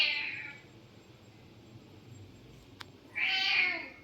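A cat meows twice, one short call at the start and a longer, louder one near the end, with quiet room background between.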